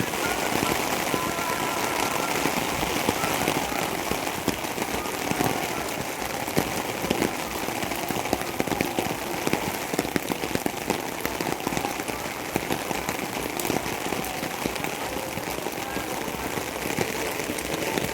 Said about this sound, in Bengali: দেখ এত বৃষ্টিতে হুড় করে জল ঢুকছে